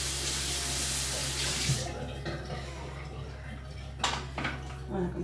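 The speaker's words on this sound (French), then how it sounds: "Je vais rincer ma cuillère" A spoon is rinsed under a kitchen tap: a loud, steady water rush shuts off after about two seconds, followed by quieter drips and a few light metallic clinks close by.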